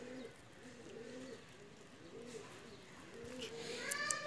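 Fancy picture pigeons coo in a loft, repeated low throaty cooing phrases close by, with faint chirps and rustling toward the end.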